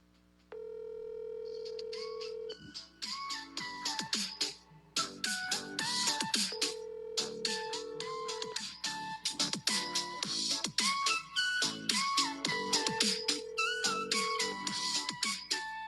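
An outgoing phone call rings three times as long steady tones with pauses between them, while lively music and scratchy sounds play loudly in between.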